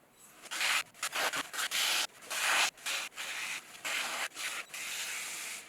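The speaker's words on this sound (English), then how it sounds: "Hence why I'm trimming away just a touch more on the walls" A trimming tool shaves the walls of a clay pot spinning on a potter's wheel, giving close, rapid scraping rubs broken into short irregular bursts.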